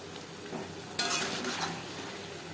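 Potatoes and ground spices stirred in a pan: a soft background sizzle, then a sudden louder scrape at one second followed by continuous stirring and frying noise.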